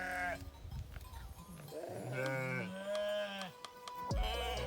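Sheep bleating at a herders' camp, several loud, wavering calls overlapping one after another, fairly close, with faint background rustle and no talk.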